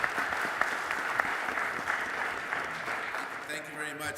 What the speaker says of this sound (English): A big round of applause for Oscar de la Hoya.